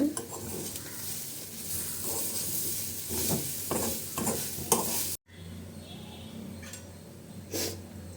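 Elephant foot yam fry being stirred in a pan with freshly grated coconut, the stove switched off: steady scraping and soft sizzle with repeated stirring strokes, broken by a brief cut before quieter stirring resumes.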